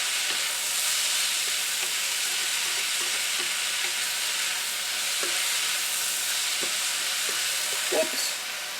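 Finely minced garlic, about three cloves, hisses in a hot pan for chicken chow mein: a steady, fairly loud sizzle with a few faint taps of a utensil and no talk.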